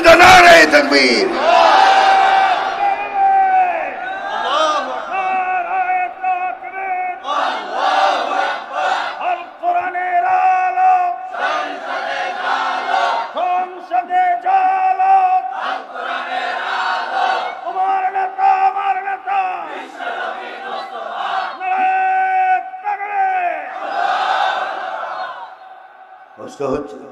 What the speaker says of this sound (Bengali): একবার তাকবীর দাও, নারে তাকবীর।